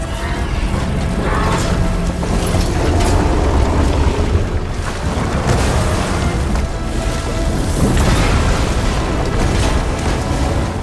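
A heat sink on a machine blows up in the video game Horizon Forbidden West, a dense, loud wash of booms and grinding mechanical clatter that rolls on without a break for several seconds.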